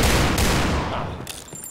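Gunfire rattles in the first-person shooter game Point Blank, a dense, loud burst of rapid shots that fades over under two seconds, ending with a few sharp metallic clicks.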